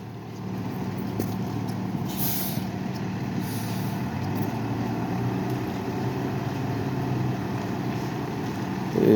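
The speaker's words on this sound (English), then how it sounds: "Whenever they back a fire truck up, they usually have a spotter" A Boston fire truck backs up at a small brush fire on a city street, its heavy diesel engine rumbling steadily and close, with air brake hisses and faint high warning tones above the idle.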